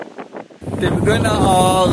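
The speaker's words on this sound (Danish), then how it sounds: "det blæser så voldsomt" Strong outdoor wind buffets the microphone in heavy low rumbling gusts that start abruptly and stay loud, while a person talks over the roar.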